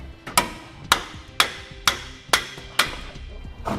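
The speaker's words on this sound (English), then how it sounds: "we'll need to tap it into position. So we'll grab a hammer," Hammer strikes tapping a steel tow base plate into position on a 2017 Ford Focus, six sharp metallic blows at a steady, roughly half-second rhythm, close and loud with short ringing decay and no talk.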